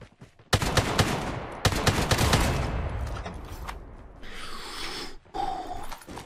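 An MG42 machine gun in Call of Duty Mobile fires a close, loud sustained burst of very rapid shots that rattles on for a few seconds and then breaks off, followed by quieter game effects.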